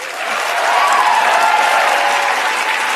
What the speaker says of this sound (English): So all that's a big applause break.